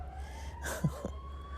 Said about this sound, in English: I don't know what's up with this siren. It sounds so slow and sleepy.